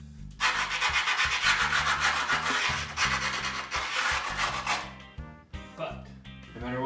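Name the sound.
scoring skateboard grip tape edges with a screwdriver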